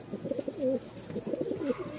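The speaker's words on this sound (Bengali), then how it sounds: "এই যে ডাক শুরু হইল, ফুল মুডে আছে কবুতরগুলা" Several pigeons coo in repeated low, throaty rolling phrases at a pigeon market, fairly close and alone with no talk.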